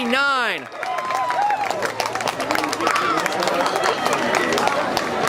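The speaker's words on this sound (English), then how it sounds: "The crowd's going crazy" A stadium crowd cheers loudly and continuously at the finish of a high school boys 4x400 meter relay at a regional track meet, with an announcer talking over the roar.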